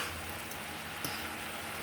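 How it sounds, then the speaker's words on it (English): Vegetables for a turkey burger dinner sizzle in a pan, a steady, dense, rain-like hiss with no talking. "Just let it sizzle out."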